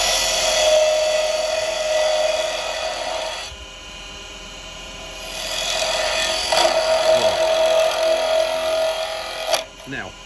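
Wood lathe turning a tight curve with a carbide chisel: a loud, steady high whine and scraping hiss that pauses briefly midway, resumes, and cuts off near the end with a few knocks.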